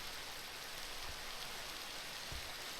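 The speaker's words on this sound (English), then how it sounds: "walk out through the pouring down rain" Pouring rain in Minecraft, a faint, even wash of rain noise with a couple of soft low thuds, no voices.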